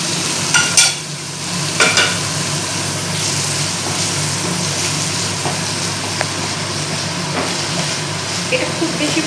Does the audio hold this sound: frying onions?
yes